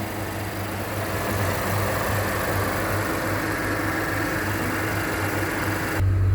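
A Honda Passport engine idles steadily, a constant low rumble and hum with even vibration, close and continuous with no talking, briefly louder right at the end.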